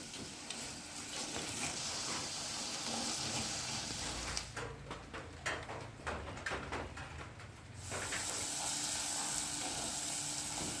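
Chopped onions sautéing with a pinch of salt in a pan for a tomato kurma give a steady close sizzle, with a few seconds of rougher stirring scrapes midway before the frying hiss swells again.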